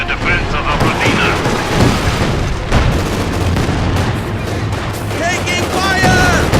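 Loud, continuous gunfire and booming artillery blasts fill a World War II battle in Company of Heroes 2, heavy rumbling impacts layered with rattling shots, while voices shout underneath.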